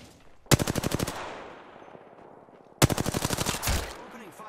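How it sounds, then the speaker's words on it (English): Two loud, close bursts of rapid automatic gunfire from the video game Apex Legends, each a quick run of evenly spaced shots lasting about half a second, separated by a quieter stretch of game ambience. "Opening fire on the enemy."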